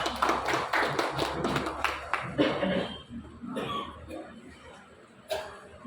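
An audience at a talk about tribal rights applauds: a burst of many claps in the first half that thins into scattered taps, with a cough, low murmuring voices and a faint chuckle as it fades.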